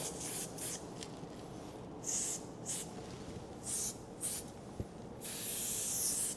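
A can of water-based spray paint fires several short, close hissing bursts in an uneven rhythm, ending with a longer sustained spray.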